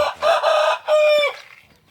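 A young fighting rooster crows loudly and up close, a single strained cock-a-doodle-doo broken into bursts before trailing off.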